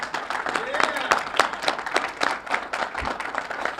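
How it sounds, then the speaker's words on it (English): An audience at a journalism convention welcome session gives a round of applause: scattered, uneven hand claps of moderate loudness, with some faint voices underneath. "Please give yourselves a round of applause."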